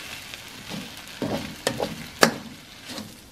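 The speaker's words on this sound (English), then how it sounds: "Now we'll just stir the vegetables in." Vegetables stirred into Pad Thai in a hot wok sizzle softly, with a few sharp scraping and clattering strokes of the utensil against the pan.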